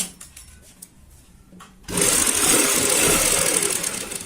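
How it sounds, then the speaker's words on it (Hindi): A domestic sewing machine running basting stitches along a cushion cover made from leftover fabric: faint handling noises, then a sudden loud, steady mechanical whirr that starts close up and runs to the end. "तो यहाँ पे हमने इस तरीके से ये कच्ची सिलाई लगा ली है"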